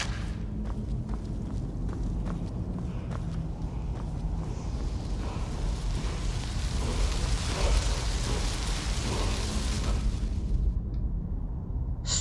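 Thunderstorm called down by the Storm Call dragon shout in the video game Skyrim, a steady rumbling roar of rain and thunder with sharp cracks, loud and continuous throughout.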